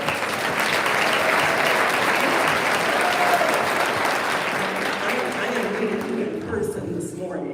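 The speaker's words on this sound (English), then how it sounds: "Give him a round of applause." An audience applauds steadily and loudly at the CCBA 2025 event, a dense wash of clapping that holds for several seconds before thinning and fading toward the end.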